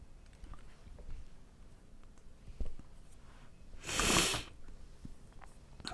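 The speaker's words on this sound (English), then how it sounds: "Excuse the sniffles." One loud, sharp sniffle or snort comes through close to the mic near the end of a quiet stretch, with softer breathing noises before it.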